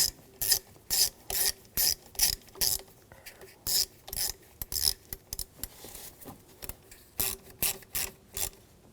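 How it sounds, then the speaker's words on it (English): Ratchet tightening a bracket screw on the high-pressure fuel pump of a 2007-2013 BMW X5 3.0L inline-six: close, repeated bursts of clicking, each lasting a fraction of a second, in a steady back-and-forth rhythm. "Get that lined up and then tighten that screw down"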